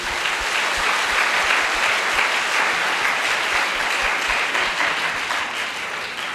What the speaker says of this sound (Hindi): प्रभु यीशु के लिए जोरदार ताली बजाइए।